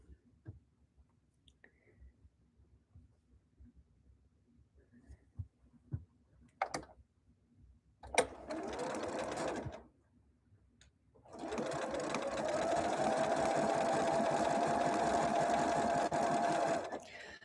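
A sewing machine stitches in two bursts, a short run and then a longer steady whir, after quiet clicks and handling sounds in a home sewing session.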